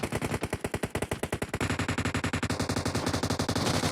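Rapid automatic gunfire rattles in PUBG Mobile, a dense fast burst of evenly spaced shots that continues almost without pause, loud and close.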